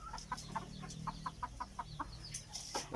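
Newly hatched wild red junglefowl chicks peep in a quick series of short, high cheeps, close and fairly soft, with faint background noise and no speech.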